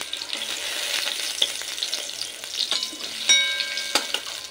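Potato and pointed gourd pieces fry in hot oil in a wok, with a steady broadband sizzle and scattered crackles and stirring knocks, loud and close, and no voices.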